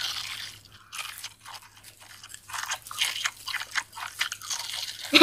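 Crunchy fried chicken is bitten and chewed close to the microphone in an ASMR mukbang, producing irregular crisp crunches and soft wet chewing with no talking.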